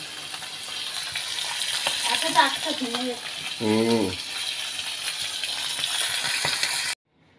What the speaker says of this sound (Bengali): এই যে তেলাপিয়া মাছগুলো সব ভাজা হচ্ছে